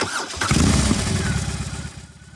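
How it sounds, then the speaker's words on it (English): A BMW R 18 big boxer twin motorcycle engine cranks and fires, settling into a loud, close, throbbing low idle with a pulsing side-to-side rhythm. "big boxer engine. BMW's largest ever, delivering massive low-end torque with a noticeable side-to-side throb on startup"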